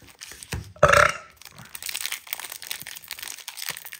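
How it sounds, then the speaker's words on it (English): A single short, loud burp erupts close by, followed by faint crinkling and rustling noises in a quiet room. "There's a cough and a burp."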